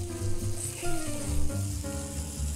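Sea bream pressed lightly into a hot pan over medium-low heat to brown the skin, giving a steady sizzle beneath a tonal musical layer throughout.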